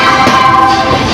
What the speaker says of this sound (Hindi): 5 मिनट हॉल्ट के बाद अपनी ट्रेन का डिपार्चर हो चुका हाजीपुर जंक्शन रेलवे स्टेशन